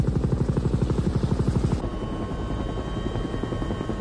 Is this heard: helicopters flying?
yes